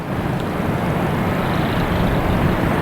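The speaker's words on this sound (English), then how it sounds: "And A320 flight 265. There it is." A JetBlue Airbus A320 airliner, flight 265, at Boston Logan Airport gives a steady, loud, broad roar that holds constant throughout, with no talking.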